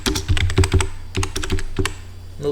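Keys clatter on a computer keyboard, a quick close burst of typing, a short pause, then a few more keystrokes.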